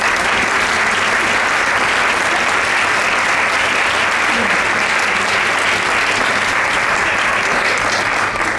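Audience applause at a family chamber-orchestra classical concert in a theatre, a loud, full and steady roar of many hands clapping that continues unbroken throughout.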